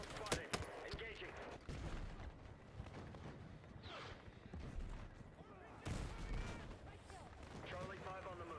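Gunfire and explosions in the video game Battlefield 6 fill the scene with sharp shots and booming blasts over a dense, continuous battle roar, while in-game voices shout through the fighting.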